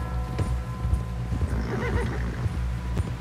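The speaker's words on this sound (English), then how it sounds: "Someone help John down off this horse" A horse in Red Dead Redemption 2 whinnies loudly and close, with hooves clip-clopping in a steady rhythm beneath it and a low game ambience throughout.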